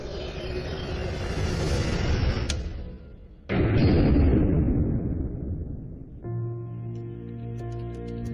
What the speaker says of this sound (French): On utilise ce canon de 40 mm pour bombarder de la roche ou de la glace